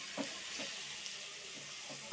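Steady, faint hissing sizzle of a spice tempering with dried red chillies in oil in a pan, with a few soft stirring clinks and a sharper crackle at the end.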